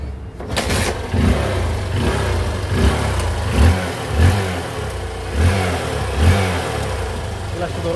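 A Hero Hunk 150cc motorcycle engine idles and revs in repeated surges, loud and close, with a voice briefly talking over it.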